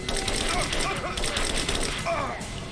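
Rapid gunfire crackles during a firefight in Rise of the Tomb Raider. Steady, clattering shots run throughout, with voices calling out over the shooting.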